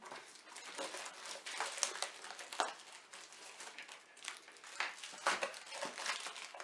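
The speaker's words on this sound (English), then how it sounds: "So let's get it open." Plastic packaging around a hard drive docking station crinkles and rustles as it is pulled open, a soft, close, continuous crumpling with small sharper crackles.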